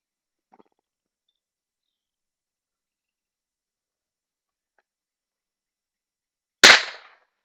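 A single sharp gunshot in the woods while hunting birds, loud and close, ringing out after several seconds of near silence broken only by faint small sounds.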